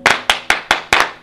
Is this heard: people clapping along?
yes